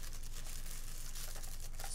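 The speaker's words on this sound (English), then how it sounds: "And I have it all in this little plastic bag." Soft crinkling of a little plastic bag handled close by, a quiet rustle with faint crackles and steady background hiss, no talking.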